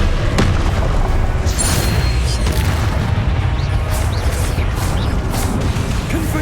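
A disarming spell cast in Hogwarts Legacy cracks with a sharp impact among dense, booming combat noise that rumbles loudly throughout.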